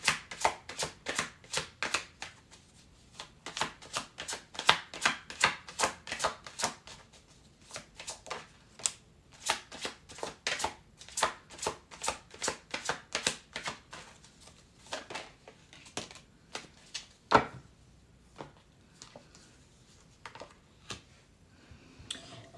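A deck of tarot cards shuffled by hand before an Oracle card pull, a long run of quick crisp riffling flutters and soft slaps repeating steadily, close and fairly quiet with no talking.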